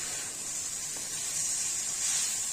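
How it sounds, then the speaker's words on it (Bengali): Water splashes into a hot frying pan of curry and sets off a steady, close hiss of steam that holds at an even level for the whole stretch, with no talking. "এখন জল দিয়ে দেবো"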